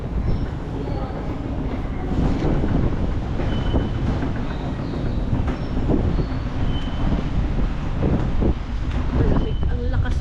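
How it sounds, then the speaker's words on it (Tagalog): Steady roaring rumble of strong, cold wind buffeting a microphone in Tokyo, mixed with the heavy rolling noise of a train, continuous and loud. "Ang lakas ng hangin."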